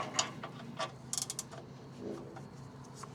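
A wrench loosens the oil drain bolt on a Toyota Hilux Surf, producing quiet creaks, clicks and a short ratcheting burst, close but faint with no talking.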